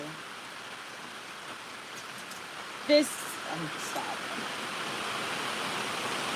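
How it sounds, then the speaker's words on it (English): Steady rain falls outdoors on a rural homestead, a soft continuous hiss throughout, with a brief voice speaking near the middle. "y'all hear that rain coming down?"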